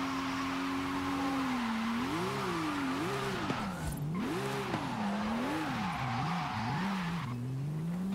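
A Volkswagen Fusca (Beetle) engine in Forza Horizon 5 drones steadily, its pitch rising and falling through repeated throttle surges and revs, loud and close throughout with no talking.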